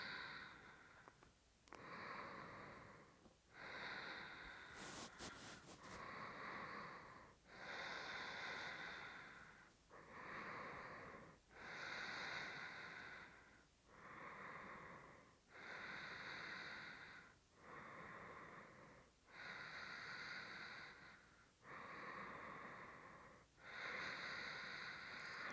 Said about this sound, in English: if you're able to bring in that Ujjayi breath, that throat breathing,